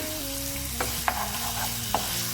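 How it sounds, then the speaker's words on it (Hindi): Dhaniya chicken roasting in a pan over a high flame gives off a continuous sizzle, broken by a few sharp stirring scrapes and clinks. A steady low hum runs underneath, and no one speaks. "कोशिश कीजिए कि इसको हाई फ्लेम पे ही आप रोस्ट कीजिए"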